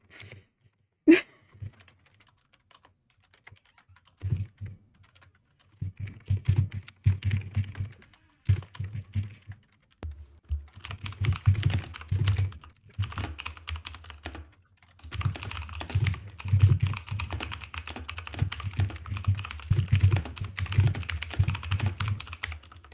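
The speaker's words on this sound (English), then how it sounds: "I hear furious typing." Rapid, bursty typing on a computer keyboard, sparse at first and then building into dense continuous clatter, close-miked and moderately quiet.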